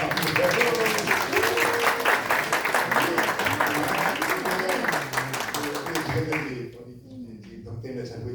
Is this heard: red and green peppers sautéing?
no